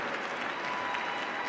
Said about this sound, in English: We want to applaud you.